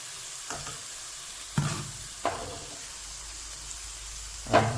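Sardine heads frying in a little oil, a low continuous sizzle broken by a few sharp stirring scrapes and knocks, close by with no voices.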